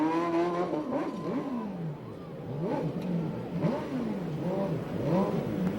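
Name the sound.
sprint race car revving, doing donuts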